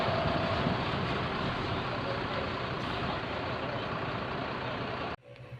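A Gumarang Jaya intercity bus rumbles into Bekasi bus terminal, its engine producing a loud, steady roar that continues for about five seconds before cutting off abruptly, leaving quieter background noise.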